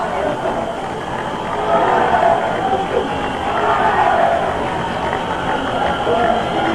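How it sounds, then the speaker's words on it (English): A large outdoor crowd cheers and calls out at Hong Kong's 1997 handover farewell as Governor Chris Patten's party boards the yacht, a broad sustained roar that swells and eases, with a commentator's voice running over it. "Cheers going up from the crowd"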